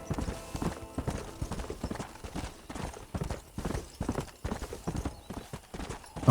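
Close, unbroken hoofbeats of a horse travelling off-road through rocky terrain in Red Dead Redemption on PS3, the clip-clop rhythm running steadily across game ambience.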